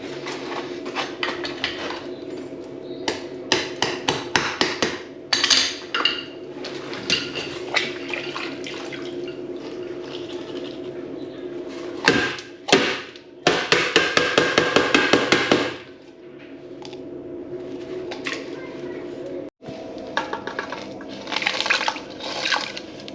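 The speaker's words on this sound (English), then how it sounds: "So this was like trying to break off concrete with a screwdriver." Screwdriver chipping and scraping hardened concrete off an old urinal, with bursts of sharp repeated knocks and rasping scrapes close by, broken by short pauses and a few faster clattering runs.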